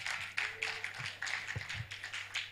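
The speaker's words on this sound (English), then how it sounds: "A big round of applause for Dr. Karangwa" An audience at the 10th African Society of Forensic Medicine international conference gives a round of applause for Dr. Karangwa: steady, dense clapping from many hands in a hall, with a few sharper individual claps standing out.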